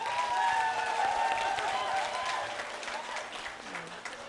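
A crowd at a public talk-concert applauds panel introductions, sustained clapping with a few raised cheers, strongest at first and slowly tapering off.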